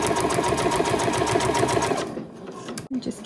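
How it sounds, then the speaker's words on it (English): A sewing machine runs fast and steady, stitching white thread onto the metallic gold side of a fabric crown, then stops, leaving quiet handling noises. "So I am just sewing on the metallic side."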